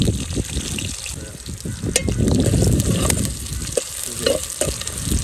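Onions frying in plenty of oil for mutton curry over an outdoor fire, a loud close crackling sizzle with stirring scrapes and sharp pops, steady throughout with no talk.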